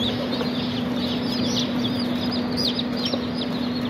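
A crowd of broiler chicks cheeps constantly at a delivery of 2500 birds, many high, overlapping peeps running without pause over a steady electrical hum.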